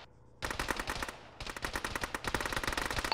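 Rapid bursts of automatic gunfire crackle almost continuously after a brief quiet start, dense and sharp like game combat, with no voices.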